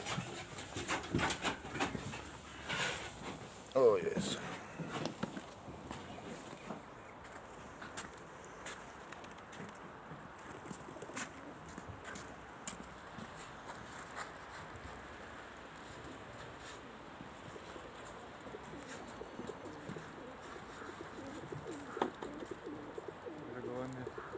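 Racing pigeons coo softly in a loft, a low steady murmur with occasional flutters and bumps, while people talk quietly nearby.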